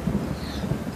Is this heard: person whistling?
no